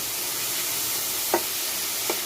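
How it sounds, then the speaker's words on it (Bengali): Radish and fried lentil dumplings stirred in a pan, heard as a steady sizzle with two brief soft scrapes of a utensil. "একটু নাড়াচাড়া করে নিচ্ছি"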